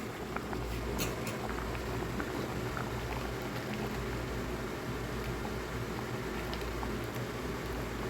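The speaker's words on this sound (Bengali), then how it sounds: "এখন ঢেকে ডালটা সেদ্ধ হওয়া পর্যন্ত রান্না করে নিব" Masoor dal lentils simmer in a covered pot, a faint continuous bubbling and hiss with soft irregular pops, steady and quiet throughout with no talking.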